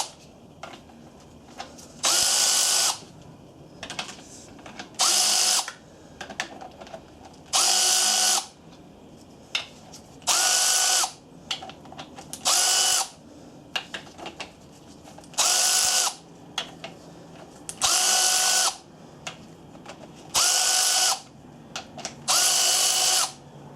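A power tool spins out bottom-end bolts on a Honda B18 engine: about a dozen loud whirring bursts of one to two seconds each, close by, with quiet handling noises in the gaps.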